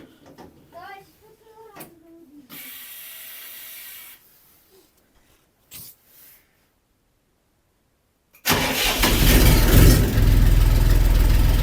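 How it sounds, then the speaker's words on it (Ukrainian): After a few quiet knocks and a short mechanical whir, the small engine of a Scout TY254 mini tractor, unstarted for a month, bursts into life and settles into a loud, steady idle close by. "Трактор місяць не заводився, давай я ж покажу, як він буде заводитися."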